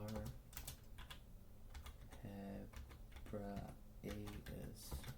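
Computer keyboard keys clicking in quick bursts as someone types, fairly close and moderately loud, with a voice talking intermittently over it.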